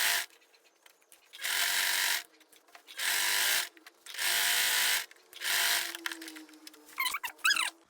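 A sewing machine stitches a seam along a fabric edge while a shirt is sewn: four loud bursts of fast whirring running, separated by short pauses with faint handling, then a few brief clicks and squeaks at the end.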